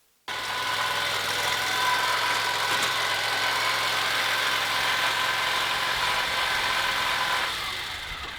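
A riding lawn mower engine runs steadily close by while pulling a Cart Mate loaded with mulch, giving a continuous mid-pitched drone with a rattly vibration that starts abruptly and eases slightly near the end.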